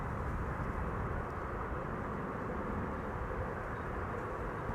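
A JetBlue airliner arriving from New York JFK at Amsterdam Schiphol, heard as a steady, moderately distant broadband jet roar that holds level for the whole stretch with no voices over it.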